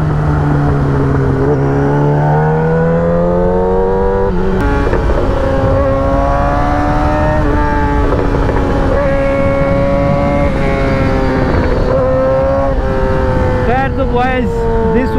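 A Yamaha R6 sport motorcycle engine runs loud and close while riding, a steady droning roar whose pitch climbs and dips as the revs rise and fall through the gears, with rushing wind noise underneath.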